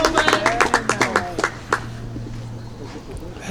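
A tennis crowd at an open-division doubles final claps after a point, a quick burst of applause that tapers off within two seconds and leaves a low hum.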